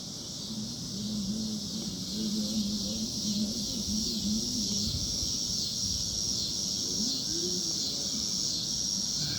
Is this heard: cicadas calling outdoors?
yes